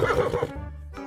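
A horse, carrying a rider in an animal-finding video game, gives one clear whinny. It rises and then trails off into a lower quavering neigh, with a short snort at the end.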